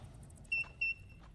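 Two short, clear electronic beeps in Vintage Story, evenly spaced and fairly near, over quiet background hum.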